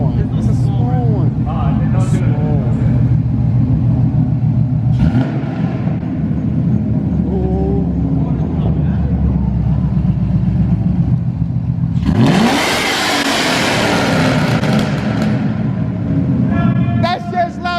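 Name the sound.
car engine revving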